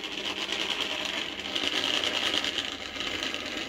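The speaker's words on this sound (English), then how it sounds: "Ah, push the steam engine back on." A Hornby model steam locomotive running on a track layout, giving a continuous close whirring motor buzz with a fast regular rattle from the wheels, steady and alone.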